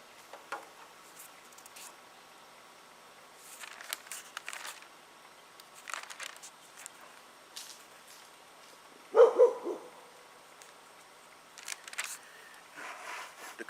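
A dog barks in scattered, faint bursts outdoors, with one louder cluster of barks partway through and quiet gaps between.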